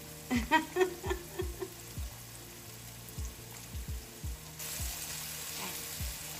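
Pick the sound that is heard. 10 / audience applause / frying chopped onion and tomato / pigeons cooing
frying chopped onion and tomato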